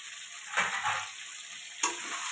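Potatoes being stir-fried in a pan for a fish, potato and tomato curry: a steady close sizzle with two louder bursts of scraping and stirring, no voices.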